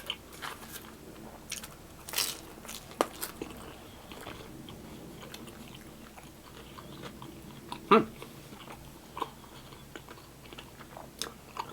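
Close, soft crunching bites and chewing on crisp Argentinian pizza crust, irregular small crackles with one sharper crunch near the middle, quiet and without talk.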